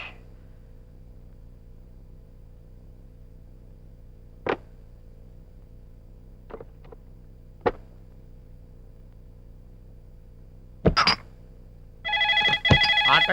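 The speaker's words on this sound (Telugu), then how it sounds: "ఫోన్ రా. ఎత్తు." A telephone rings in a Telugu comedy film scene: a short burst of repeating electronic ringing at the very end, after a long quiet stretch broken by a few sharp clicks and knocks.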